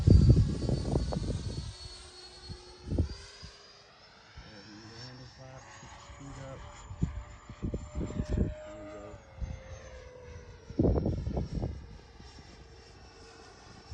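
A Freewing MiG-29 RC model jet flies overhead, its steady high ducted-fan whine gliding up and down in pitch as it passes, with voices talking over it at the start and end.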